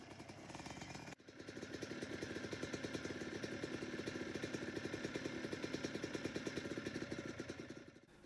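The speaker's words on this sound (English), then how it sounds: "This first test is to take off with the engine at idle to see if the clutch control is smooth enough." Small engine idling and then revving steadily as a vehicle pulls away using a homemade electric clutch, a continuous rhythmic putter that holds loud and close after a brief dropout at the start.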